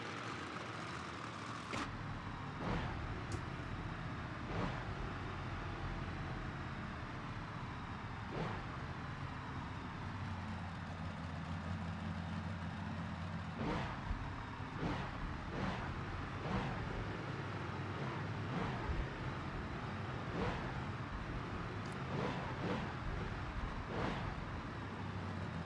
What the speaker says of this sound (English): Now, Outlaw has a little bit different engine sounds,